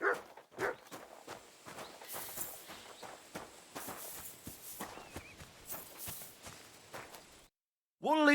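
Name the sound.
dog in video game Kingdom Come Deliverance II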